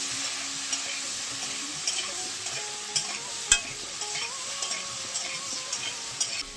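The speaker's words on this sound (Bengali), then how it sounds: "এখন ভালো করে নাড়িয়ে চেড়ে ভেজে নেব" Cauliflower for an egg cauliflower curry fries and is stirred in a pan, a continuous close sizzle broken by light spoon scrapes and occasional taps against the pan.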